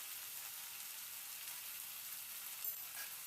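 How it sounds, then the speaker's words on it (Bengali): Potatoes and chopped onion stalks frying in a pan, a faint, steady sizzle with a couple of brief stirring scrapes near the end. "এবার পেঁয়াজ কলিটা দিয়ে আলুর সঙ্গে আরও বেশ কিছুটা সময় ধরে নাড়াচাড়া করে একদম ভেজে নিতে হবে"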